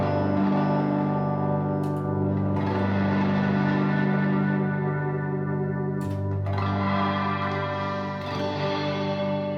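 Wet guitar tone from an HX processor, sustained chords smeared with chorus, distortion and echo tails, steady and fairly loud throughout with a couple of brief pick attacks, no talking.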